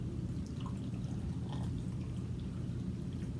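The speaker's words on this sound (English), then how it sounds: "Then we will pour pickling water" Hot pickling water poured over sliced white radish, a steady wet splashing and trickling stream that runs close and continuous without pause.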